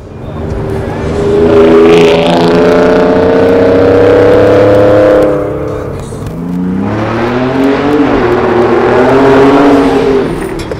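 Ford F-150 Raptor fitted with a Borla S-Type stainless mid-section, X-pipe and 3-inch mufflers revs twice up close, a loud rising exhaust drone that peaks, drops briefly, then climbs again.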